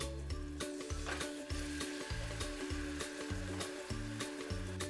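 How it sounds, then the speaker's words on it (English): Cubed chicken sizzling in a hot pan while being stirred, a continuous hiss broken by regular scraping strokes of a utensil, close and steady, with no talking. "Hear that sizzle?"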